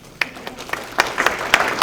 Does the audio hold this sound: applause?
yes